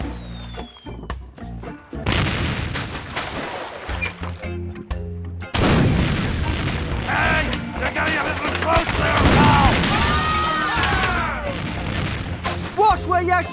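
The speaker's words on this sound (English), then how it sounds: "it's one of those new self-loading cannons I've heard so much about" A self-loading cannon in The Curse of Monkey Island fires repeatedly, loud booming blasts over a dense, busy game soundtrack, with a short lull near two seconds before heavier firing resumes.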